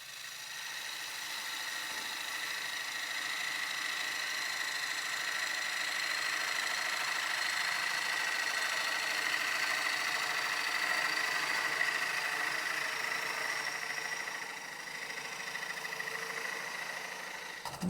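A wood turning tool cutting a spinning workpiece on a lathe, a sustained, steady whirring hum with a continuous hissing cut, fairly loud and unbroken, easing slightly near the end.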